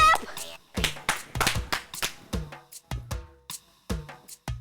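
A series of sharp hand claps in an irregular rhythm, with several voices chattering and calling out between and around them in an indoor comedy serial scene.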